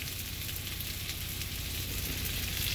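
T-bone steaks sizzle loudly in a hot pan, a steady, dense hiss with fine crackling that holds evenly throughout, close up and without any voices.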